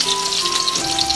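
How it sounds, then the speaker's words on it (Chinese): Pieces of chicken breast, marinated and shallow-fried in plenty of oil until golden and crisp, give off a steady close sizzle with a bright hiss that runs evenly through the whole moment, with no talking. "煎至表面金黄，带着点焦脆"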